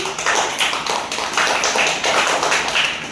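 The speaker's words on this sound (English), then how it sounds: "Clap for MD Shayan and Arif Qureshi" Audience applause closing a debate, a dense steady patter of many hands clapping together, fairly loud and sustained throughout with small swells, no voices over it.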